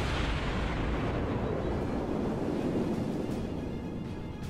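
Heavy warship gun fire in World of Warships, a deep rumbling roar of booming naval cannons with a long washing tail, steady and fairly loud, no voices.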